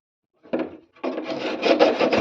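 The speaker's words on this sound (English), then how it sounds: "I'm going to work the scraper all around the wing. You can see all the mud coming off." A scraper drags mud off the wheel arch of a Morris Minor, one short close scrape followed by a longer run of rough, rhythmic scraping strokes, with no talking.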